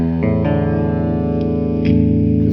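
A thick, heavily distorted chord on a Dean ML prototype electric guitar rings out loud and sustained, with a few re-strikes and a fuller swell near the end.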